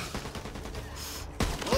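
Gunfire in the video game Back 4 Blood crackles in quick repeated bursts, fairly faint, with a sharper louder shot near the end.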